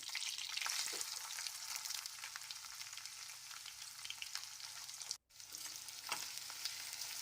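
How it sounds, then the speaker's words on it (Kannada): Onions fry in oil with garlic and curry leaves, a soft, even sizzle with light stirring taps, broken by a brief near-silent gap before the frying resumes. "ಈರುಳ್ಳಿ ಸ್ವಲ್ಪ ಸಾಫ್ಟ್ ಆಗೋ ತನಕ ಕಲರ್ ಬಿಟ್ಕೊಳ್ಳೋ ತನಕ ಫ್ರೈ ಮಾಡ್ಕೋಬೇಕು ಎಣ್ಣೆಯಲ್ಲೇ"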